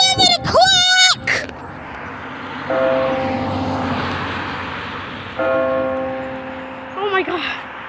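A church bell strikes the hour at eleven in the morning. Resonant tolls ring out with long fading hums, while excited voices talk over them near the start and end.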